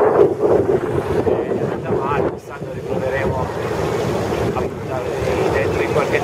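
Cold, gusty wind in Denmark during the 2012 Giro d'Italia cycling race buffets the microphone, a steady loud rumble and roar that persists without letup, with faint voices occasionally audible beneath it.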